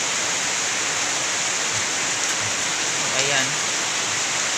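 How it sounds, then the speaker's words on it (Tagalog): Heavy typhoon rain pours steadily on a pig farm as a dense, close hiss, and a voice speaks a single word briefly partway through. "Walang humpay pa rin yung yung ulan dito mga ka-farmers."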